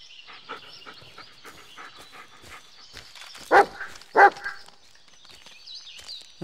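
Bullet the dog barks in the Blair Witch video game, two loud, close barks in quick succession after a stretch of softer footsteps and ambient rustling, with a higher whining tone trailing at the end.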